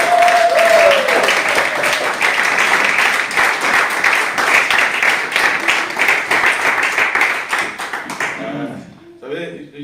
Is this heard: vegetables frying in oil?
no